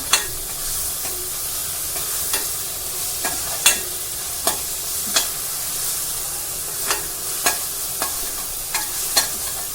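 Ginger-garlic paste and chopped coriander sautéing in a pan with oil, onion and green chillies: a steady close sizzle under regular sharp scrapes of a spoon against the pan, with no one talking.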